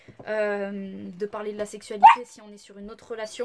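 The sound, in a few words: dog barking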